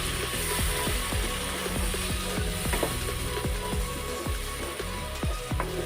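Ground onion and chilli paste frying in melted butter in a pan, with a continuous loud sizzle and regular scraping strokes of a spoon stirring.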